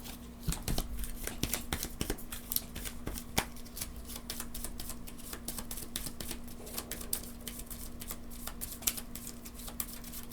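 Someone shuffles a deck of Tianxia board game cards at a tabletop during solo play. Dense, rapid riffling clicks and card slaps continue steadily for about ten seconds, close and moderately loud, with no talking.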